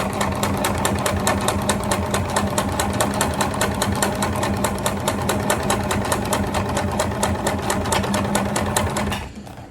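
Sewing machine stitching clear crystal plastic for a transparent backpack, a loud, fast, steady mechanical chatter held close for about nine seconds before it slows and stops.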